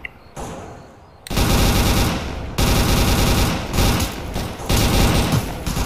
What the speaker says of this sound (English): Jeez, I'm getting shot at.